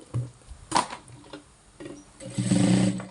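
A sewing machine stitches fabric in short bursts, its needle ticking rapidly between pauses and ending in a longer, steadier run of stitching, close and moderately loud with no voices.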